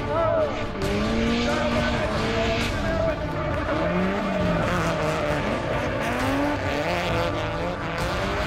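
At Mondello Park, a drift car in the Irish Drift Championship enters a corner at speed, its engine roaring loud and close with wavering revs as the tires squeal and skid throughout, under a commentator's voice.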